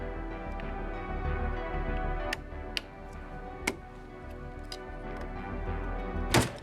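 Eccentric nuts loosened on an Ender S1 Pro 3D printer: sparse sharp metallic clicks and ticks of a tool on the nuts over a steady low hum, close by, without speech.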